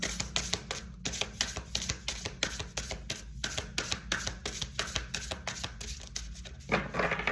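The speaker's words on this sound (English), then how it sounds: "I need to like find a way to shuffle better." Tarot cards shuffled by hand during a Christmas love reading, giving a steady run of quick, crisp riffling taps and soft card slaps that repeat close up, with a brief pause near the middle and a final burst at the end.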